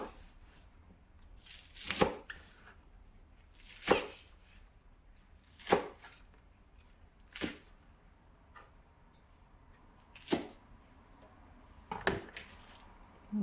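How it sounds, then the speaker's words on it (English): A knife cuts onions into two-inch lengths on a cutting board while making kimchi, giving sharp, distinct chops spaced about two seconds apart, close and clear against a quiet background, with a quick double chop near the end. "We're just going to cut this onions into about, I would say about 2 inches in length."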